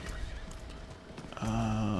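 A horse in Diablo IV lets out a loud, close whinny near the end, following a stretch of hoofbeats and game ambience.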